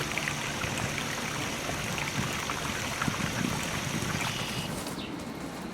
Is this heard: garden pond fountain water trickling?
yes